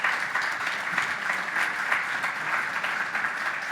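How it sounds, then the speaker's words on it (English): An audience at an AOTech investor finale event breaks into sustained applause, a dense, even roar of many clapping hands, close and full, continuing for several seconds without voices. "Please give them a round of applause."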